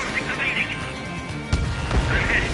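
Missiles launch and strike in the jet combat game Ace Combat 7, with a sharp impact burst partway through and another low thud soon after over a rumbling engine drone, while voices talk over the radio.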